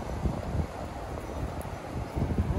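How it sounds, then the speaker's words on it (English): Strong wind on a surf-fishing beach at Mayport buffets the microphone in a continuous low rumbling roar, loud and close, with gusts swelling at the start and end and no talk. "look how windy it is today"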